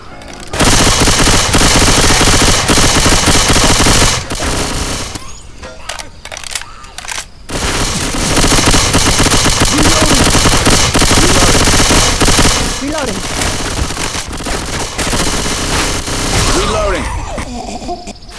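Loud, dense bursts of rapid gunfire from a shooting video game fill nearly the whole stretch, with a brief lull in the middle and voices talking over the shots.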